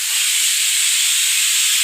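Steam from a pressure cooker holding chickpeas and rice rushes out in a loud, continuous, unbroken hiss from start to finish, with no voices.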